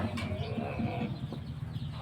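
A breeding rooster gives short clucking calls amid faint farmyard background noise, fairly quiet and close.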